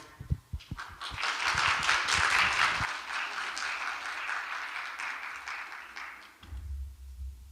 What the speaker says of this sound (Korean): 여러분의 박수로 만나보겠습니다.